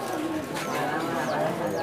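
Flying pigeons coo at the Dhosa pet market, a soft continuous murmur of calls blended with the busy hum and distant voices of the market crowd.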